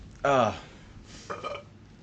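A loud, drawn-out burp with strong low harmonics rises at close range, followed about a second later by a softer, shorter gurgling belch or grunt.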